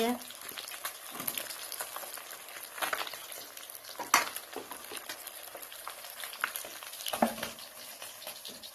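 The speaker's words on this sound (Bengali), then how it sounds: "রান্না করছি আমি। মাছ ভাজা হচ্ছে" Fish sizzles and spits in a pan, with continuous crackling frying noise and occasional louder pops and clatters over several seconds.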